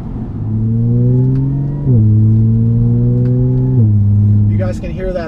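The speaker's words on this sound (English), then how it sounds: "You guys can hear that the supercharger is very pronounced." Supercharged 2010 Audi B8 S4 with a cold air intake accelerating, its supercharger whine rising steadily in pitch over the engine note, with two gear shifts briefly dropping the tone before it climbs again, loud and close from inside the car.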